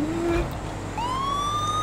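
A police car siren in the video game GTA V starts up partway through as a single rising wail that holds high, over a steady low engine rumble.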